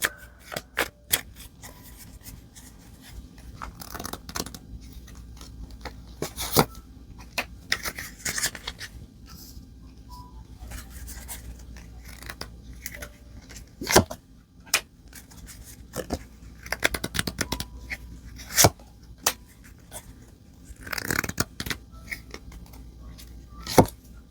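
Light Seer Tarot cards are handled and shuffled close by in a quiet room, producing intermittent soft riffles, slaps and papery rubs in irregular bursts without talk.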